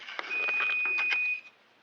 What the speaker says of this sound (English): There's the stove going off saying, hey, timer's up.